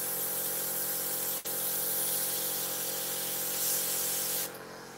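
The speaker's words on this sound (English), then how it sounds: "Again, spray it." A steady, loud hiss of water sprayed to clean parts of an Eduard 1/48 Tempest Mk.V model kit, with a brief break near the start, then cutting off near the end.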